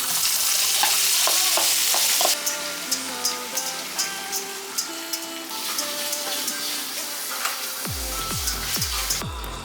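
Chopped seasonings sizzling and frying in reused fish-frying oil in a pan, a steady crackling hiss with repeated stirring scrapes, loud and close; music plays underneath.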